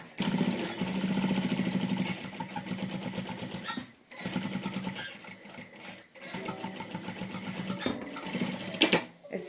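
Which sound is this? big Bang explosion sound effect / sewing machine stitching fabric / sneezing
sewing machine stitching fabric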